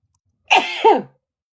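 One sharp human sneeze, close and loud, in two quick bursts with the second stronger, set against silence.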